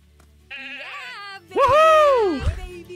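A sheep in a video game gives two bleats, a short wavering call followed by a louder, drawn-out one, close and clear.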